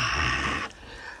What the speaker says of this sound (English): I'm breathing heavier, so they could hear like